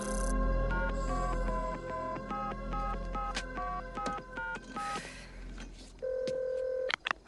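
A telephone being dialed, a quick run of distinct keypad tones in steady rhythm followed by a sustained line tone, clear and close with no talking.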